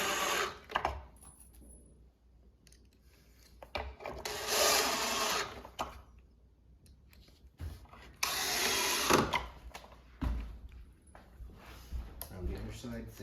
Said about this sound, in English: Install your screws.